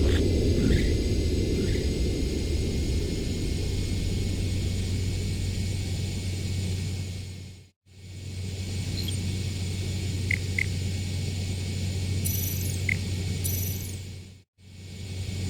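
A jet aircraft comes in to land in Ace Combat 7, a steady loud engine roar and low rumble running throughout, cut by two brief drops to near silence, with faint high whines above.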